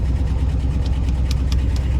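Universal diesel engine on a Catalina 30 sailboat, running steadily at idle with a close, even low chug and a few brief clicks on top.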